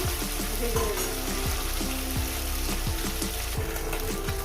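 Small mourala fish fry in hot oil in a pan, a loud continuous sizzle and crackle close by, with occasional clinks of a utensil against the pan.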